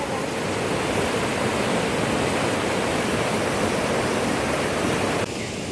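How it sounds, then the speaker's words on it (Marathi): A fast, muddy river swollen by the first rain of the season rushes past in a loud, steady roar, a dense, unbroken wash of water that continues without pause. "नदीचं पाणी येतं तर वेगानं येतं"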